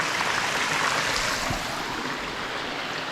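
Steady rushing water at Sticky Waterfall in Thailand, a continuous broadband roar close by that stays loud throughout with no voices.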